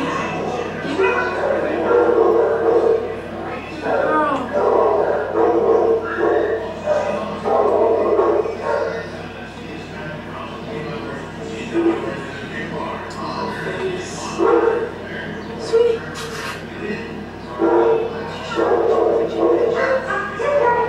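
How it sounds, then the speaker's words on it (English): Many dogs in an animal shelter barking, yipping and whimpering continuously, a dense overlapping chorus with echo off hard concrete surroundings, moderately loud throughout. "the sound of many dogs in the background"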